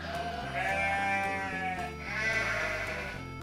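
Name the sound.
sheep bleating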